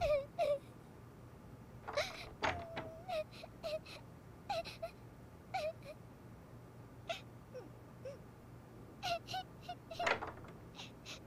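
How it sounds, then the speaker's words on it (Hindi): A person cries and wails in a quiet indoor setting, giving short strained moaning sobs in irregular bursts, faint and somewhat distant, separated by pauses and low background hum. "रोने की आवाज?"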